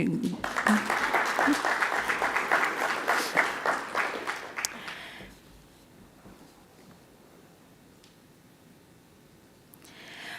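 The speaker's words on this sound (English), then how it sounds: "And you should clap for yourselves." An event audience gives strong, full applause with scattered voices for about five seconds, then the clapping drops away to quiet room tone, and a few claps return at the end.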